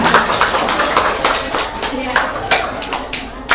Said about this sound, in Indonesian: Tepuk tangan dulu buat Sasa.